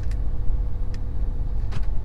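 A 2020 Ford Super Duty pickup towing a trailer pulls away, with a steady low engine and road rumble heard from inside the cab and a few faint ticks over it.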